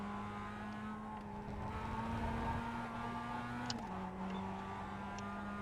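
A Mazda MX-5 race car in iRacing holds a steady engine note, then shifts pitch slightly as throttle eases on. The droning tone is fairly faint and continuous, with other cars faintly audible.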